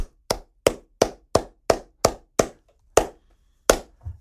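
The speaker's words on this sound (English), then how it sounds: "How about a slow clap?" A slow clap: single sharp hand claps, about ten of them, spaced evenly at roughly a third of a second, close and crisp with silence between.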